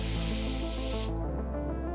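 An Atmosphere Aerosol haze spray can hisses in one steady burst for about a second, with a broad, loud, close rush that cuts off and leaves a low background hum.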